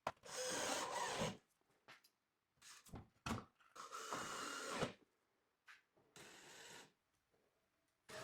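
Metal tapping screws are driven into plywood with a power drill in several close bursts of whirring and grinding, separated by short pauses and quiet handling noises.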